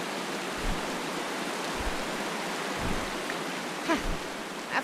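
Steady broadband rush of a waterfall in a video game, with the flow partly blocked by an avalanche, continuous and fairly loud with a few soft thumps over it.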